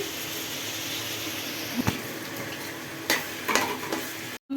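Meat and shrimp hit a hot pan with chopped garlic and sizzle in a continuous moderate hiss. Occasional utensil clinks and scrapes from stirring punctuate it, and the sound drops out briefly near the end.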